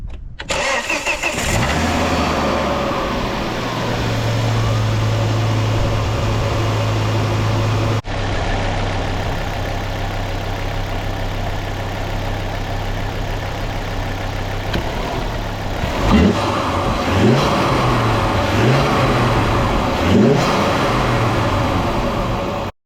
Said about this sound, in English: let's see if we can hear any induction noises, even on tick over